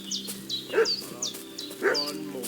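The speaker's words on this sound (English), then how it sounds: "What's that dog making such a fuss about?" Dog barking in the medieval video game Kingdom Come: Deliverance 2, a few sharp, moderately close barks and yelps in an uneven rhythm over a low background hum.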